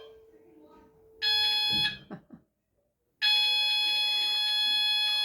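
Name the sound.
school lesson change bell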